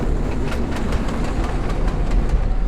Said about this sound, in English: When the train leaves, I am on board.